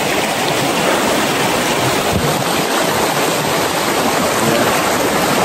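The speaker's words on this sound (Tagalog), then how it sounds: "hindi na natin kailangan salubungin yung agos ng ilog" A river current rushing loudly and continuously during a river crossing on a trail to hidden waterfalls in Tarlac, a dense broadband wash of flowing water with no speech.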